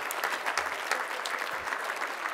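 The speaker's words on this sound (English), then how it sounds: "give a round of applause for sure" Applause at a 2016 PVC awards banquet for a sports team, a dense, steady burst of clapping from the gathered crowd filling the room, heard alone without talk.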